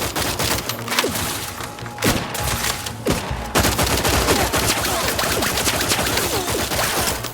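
Loud, sustained gunfire in The Outer Worlds 2 video game, with dense overlapping shots, rapid bursts and thuds running continuously throughout.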